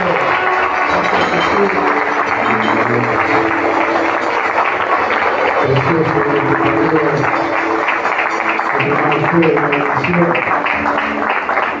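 A church congregation applauds steadily and loudly for several seconds, a dense wash of clapping hands with voices mixed in throughout.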